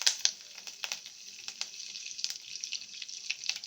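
Mustard seeds and curry leaves hit hot oil, giving quiet crackling and spitting pops scattered irregularly over a low sizzle, with no talking.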